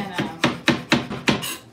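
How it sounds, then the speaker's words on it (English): A kitchen knife chops mint into chiffonade on a cutting board, five or six crisp, evenly paced strikes landing close and fairly loud, with no talking. "I was doing a chiffonade of"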